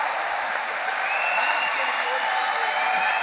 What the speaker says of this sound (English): And I see some men clapping.